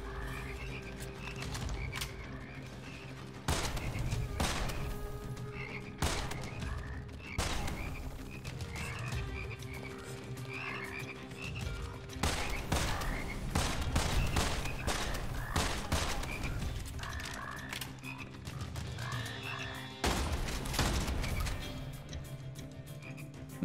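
Frogs croak in the shooter Immortal Redneck amid bursts of gunfire, a busy mix of repeated croaks and sharp shots over a steady game backdrop, with no talk.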